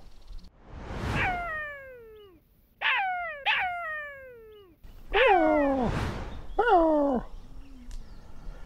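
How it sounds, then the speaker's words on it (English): Jackal calling in the wild on an African safari: a series of high, wailing, downward-sliding yips and howls, some overlapping, at moderate distance over a soft background hiss. "Hear that? That's a jackal."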